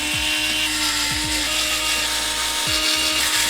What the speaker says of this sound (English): Now we can screw it in.